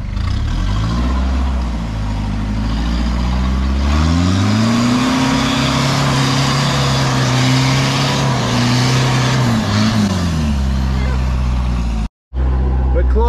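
A Nissan Patrol GU engine labouring up the steep Gatekeeper track on Sugarloaf Mountain, a loud, close drone whose pitch rises and falls with throttle changes, with voices talking over it.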